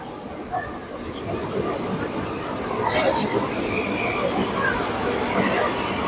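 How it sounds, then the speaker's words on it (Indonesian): A train from China pulling into platform 1 at Tanah Abang station, a steady rolling rumble with hissing and a faint squeal of wheels, loud and close in a busy station hall. "kebetulan ada kereta dari Cina yang tiba di peron 1 stasiun Tanah Abang baru ini"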